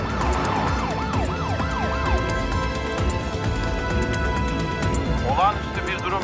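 Wailing ambulance siren sweeping up and down during a video game, with several sweeps at the start and more near the end, over rumbling traffic and steady talk.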